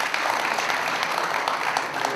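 A crowd at a political press conference in Gwangju claps steadily, a continuous patter of applause held at an even level throughout.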